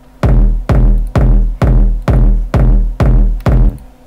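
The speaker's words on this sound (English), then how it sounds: "It's super powerful and big kick drum." A big room kick drum sample from a Bass House Pack hits eight times in a steady, even beat, each thump deep and punchy with a quick decaying tail, loud and alone.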